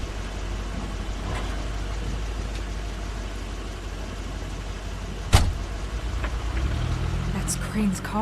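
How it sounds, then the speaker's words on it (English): Crane's car pulls up in The Wolf Among Us: a steady low engine rumble under a constant wash, a sharp thud midway, then a deeper rising motor hum near the end, with voices faint beneath. "That's Crane's car."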